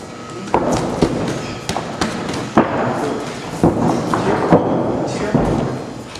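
Repeated punches thud onto pads or a body in a boxing drill, including double body shots, landing as sharp irregular impacts over about six seconds amid gym noise and a busy room.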